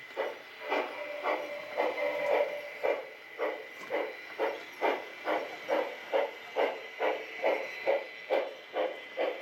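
A PIKO G scale model steam locomotive of a B&O digital steam freight set chuffs steadily, a regular rhythmic beat of roughly two puffs per second over a continuous hiss, close and moderately loud.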